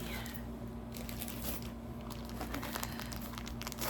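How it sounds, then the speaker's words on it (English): Skeins of yarn being packed into plastic bags to keep dust off, with a steady close crinkling and rustling of the plastic running throughout and no speech over it. "I put them in these plastic bags."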